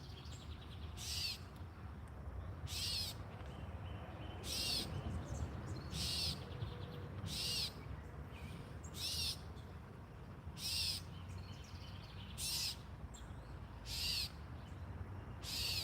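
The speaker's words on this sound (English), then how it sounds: "Hear how annoying the bird is too?" A bird calls near a garden bench: a repeated sharp screeching call sounding about every second and a half, fairly close, over a low outdoor background rumble.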